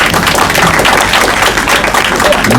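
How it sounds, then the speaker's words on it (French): An audience at a mock wedding ceremony applauds in a dense, steady wash of clapping that fills the whole moment without pause. "Faut l'applaudir."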